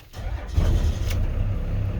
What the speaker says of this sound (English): I'm going to get this truck started